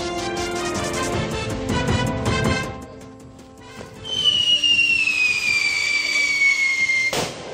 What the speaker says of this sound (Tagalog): Sumisipol-sipol at sa duloy may malakas na pagsabog nang subukan ang umano'y bagong paputok